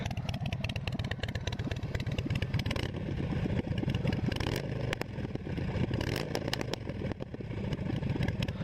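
A Harley-Davidson Sportster motorcycle engine revs loudly and continuously up close, a throbbing, rumbling pulse that swells and rises under throttle with no talking.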